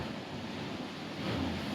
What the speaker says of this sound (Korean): 여기서 물이 지금 흘러나오죠. 파도 치면서.